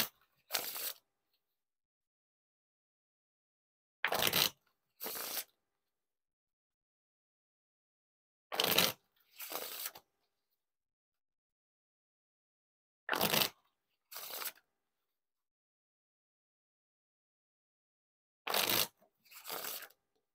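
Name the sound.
riffle and bridge shuffles of Red Knights playing cards by Ellusionist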